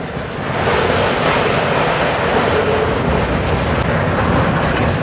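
A moving passenger train near Dakshineswar, Kolkata, rumbles and roars steadily from inside, loud and continuous with a low, rolling drone.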